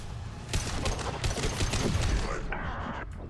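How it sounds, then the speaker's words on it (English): Laser gun fire in the video game Mass Effect 2: rapid, dense bursts of sharp shots overlap one another, loud and continuous, then thin out into a few brighter zaps near the end. "Laser gun."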